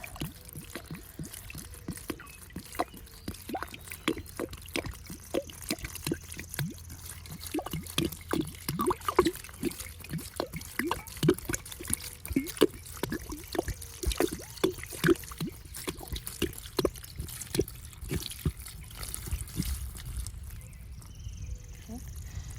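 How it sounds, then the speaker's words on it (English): Well water runs from a tap into a bucket with a steady trickling pour, dense with splashes and drips close to the microphone for the whole stretch, while a person talks quietly at times. "So I'm gonna go ahead and continue to fill this bucket up."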